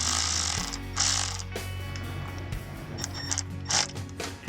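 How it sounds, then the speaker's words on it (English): A battery-powered ratchet tightens a spark plug on a 2000 Toyota Corolla, giving a steady close mechanical whir with short bursts of ratcheting clicks throughout. "Tighten it with the battery power ratchet."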